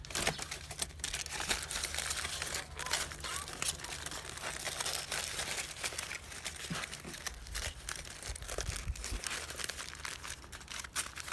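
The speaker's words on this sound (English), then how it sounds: "once you have your peanut butter and jelly sandwich, you want to wrap it." A peanut butter and jelly sandwich is wrapped for a camping trip, giving steady crinkling and rustling of wrapping material that runs close and continuous throughout with no talk.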